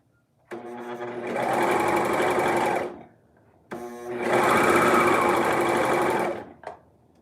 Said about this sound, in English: So I'm just sewing, I'm just serging down the sides at this point.